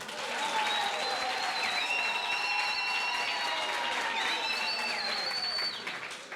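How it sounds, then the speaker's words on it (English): Sustained crowd applause at a co-operatives bootcamp session in Gauteng fills the whole stretch, with whistles and cheering rising above the clapping. "Ke kopela round of applause for Tabeo."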